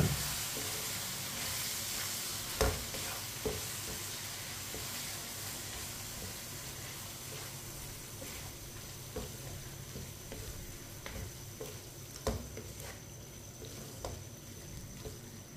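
Tinda, the Indian round gourd, cooks as a curry in a pan. A steady sizzle runs throughout with occasional scrapes and knocks of a spoon stirring it, fairly quiet and close, with no talking.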